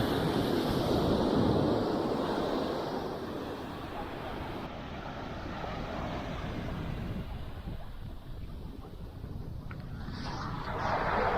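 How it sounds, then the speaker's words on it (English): Surf washing onto a barren Cape Verde beach with steady wind buffeting the microphone, a continuous broad roar that swells at the start and end with no clear individual wave breaks. "look at this stretch of beach, just phenomenal."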